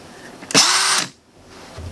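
A Makita DHR 202 cordless rotary hammer is briefly triggered and whirs loudly for about half a second at high speed. Then its motor winds down and stops, leaving quiet indoor room tone.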